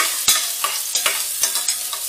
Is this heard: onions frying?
yes